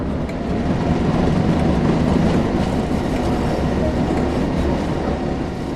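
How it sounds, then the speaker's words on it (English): A train rolls along in Train Sim World 2 on the Tees Valley Line, a loud, steady rail rumble with rhythmic wheel clatter and faint squeal, continuous throughout with no voices. "With the train now moving, it's possible to apply more power and focus on achieving a desired speed."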